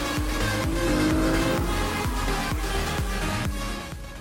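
A Ferrari 296 GTB hybrid sports car driving hard, its engine note repeatedly rising in pitch through quick gear changes, loud and close, fading slightly at the end.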